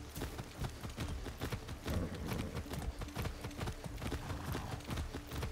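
A horse's hooves clip-clop steadily in the Far Cry 6 video game, a fast, even rhythm of close, distinct thuds continuing throughout at a trotting pace, with no speech.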